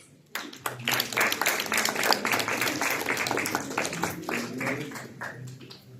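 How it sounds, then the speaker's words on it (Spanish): After a brief quiet moment, a crowd at a nutrition congress bursts into loud applause, a full, crackling rush of many people clapping that holds steady for several seconds before tapering slightly. "Un fuerte aplauso para Peña Reyes Laura."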